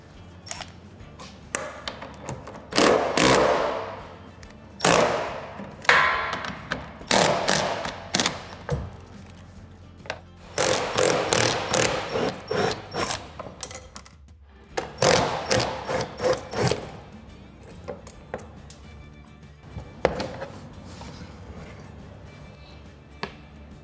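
Bolts are worked loose to free the hatch plate assembly on a JACKY bin fitted with a 12V remote-hatch actuator kit, giving close metallic ratcheting and scraping in repeated rhythmic bursts with short pauses.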